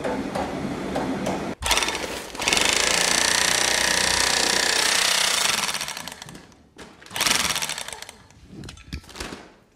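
An industrial sewing machine stitches a sack of stone-ground wheat flour shut beside a stone mill, a loud, dense rattling burst that runs steadily for several seconds, then ends in short choppy bursts.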